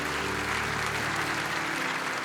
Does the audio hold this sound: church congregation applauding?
yes